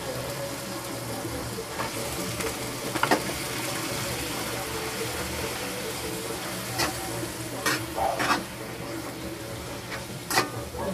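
Chicken sautéing in a pan for menudo, a steady close sizzle with occasional stirring scrapes and clinks, and a voice speaking now and then over the frying.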